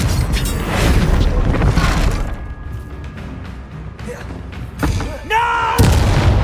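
A Confringo blasting spell explodes in Hogwarts Legacy with heavy booming blasts and rumbling impacts, followed by sharper magical effects near the end, amid game combat noise and a character's voice.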